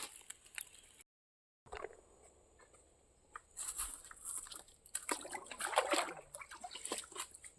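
Water trickles and patters over rocks where it seeps from tree roots along a stream, a faint, uneven outdoor dribble with scattered splashes that grows busier toward the end, no voices.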